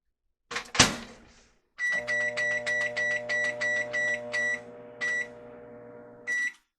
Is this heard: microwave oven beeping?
yes